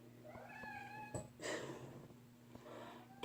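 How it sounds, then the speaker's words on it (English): A house cat meows a few times indoors, faint and somewhat distant, against a steady low electrical hum and soft room noise. "Cats."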